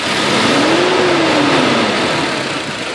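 A car engine revs up loudly during a sensor voltage test, rising in a smooth pitch sweep then easing back, close and continuous with no talk over it.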